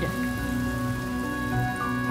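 Steady rain falling in Honkai Star Rail, a continuous even patter on surfaces layered under sustained tonal game music, with no speech.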